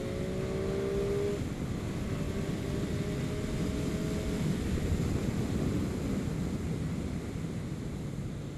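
Honda CBR 1000 and Aprilia Tuono motorcycles at speed on a race track, a steady loud engine roar with a rising whine early on, continuous throughout.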